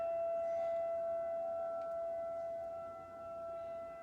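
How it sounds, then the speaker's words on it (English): A tornado civil defense siren sounds during a monthly test, a faint, distant, sustained tone that stays steady with a slight dip in level near the end, with no voices. "I literally got a signal on here with this other siren going off."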